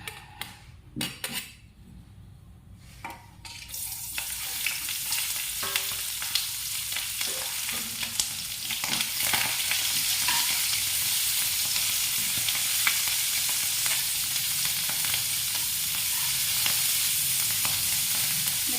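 Stuffed green chillies hit hot oil in a frying pan: a few sharp clatters of utensils first, then a loud, steady sizzle that keeps building, with occasional stirring taps.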